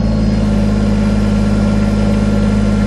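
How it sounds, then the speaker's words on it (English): Diesel engine of a Kubota BX23S compact tractor with an LA340 front loader runs at raised throttle while the loader lifts, a loud, steady low drone heard close with no talk. "Now we're going to lift the loader up. Give it a little bit more throttle."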